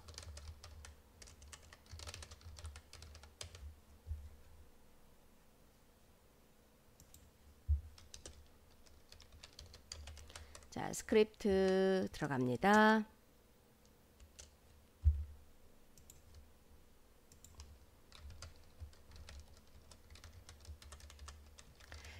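Code being typed on a computer keyboard, a JavaScript for-loop and object declaration, as faint, scattered key clicks with a brief louder burst of other sound partway through and a short spoken line.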